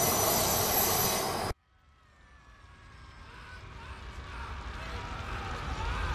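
A silver train barrels down the tracks in a sudden loud roar that cuts off abruptly, leaving a faint, steadily building rumble and thin metallic whine as it approaches again.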